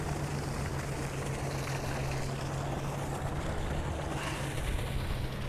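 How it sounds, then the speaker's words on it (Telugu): A farm water pump motor runs beside a field, giving a steady low hum under a constant rush of water flowing from its pipe, unchanging and fairly faint. "మళ్ళీ ఇటు మోటార్ వేసి మోటార్ పైపు పెట్టి ఇటు"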